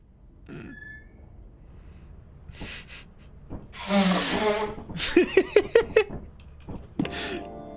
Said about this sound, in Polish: To, to jest dźwięk, który cię wita codziennie w pracy, jak twój współpracownik wydmuchuje nos.